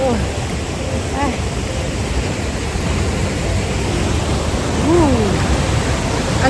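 Tuasan Falls on Camiguin Island in the Philippines sends up a loud, constant roar of falling water, with faint voices or calls showing briefly through the wash.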